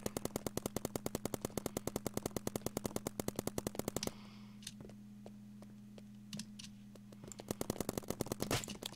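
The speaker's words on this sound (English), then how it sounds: "I'm going to shoot this sentry" Rapid, evenly spaced paintball gunfire from a Roblox paintball game rattles in a fast automatic stream, pauses for a few seconds with only scattered single clicks over a low hum, then the rapid firing resumes near the end.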